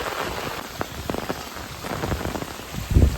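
Heavy rain pouring on a village road in the Maharashtra countryside during the monsoon, a dense continuous hiss with scattered close drips and a louder gust of splashing at the end, no voices.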